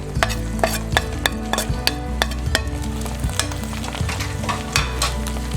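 Green and red chillies fry with okra in a pan under a steady sizzle. A spoon stirs them in regular scraping strokes, close and clear, and no voices are heard.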